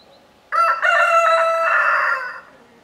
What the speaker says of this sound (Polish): Całkiem przystojny z niego kogut, prawda?